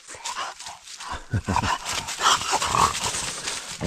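Dogs on a mushroom-foraging outing in the countryside make close whimpers, snuffles and yelps, with brief human voices mixed in.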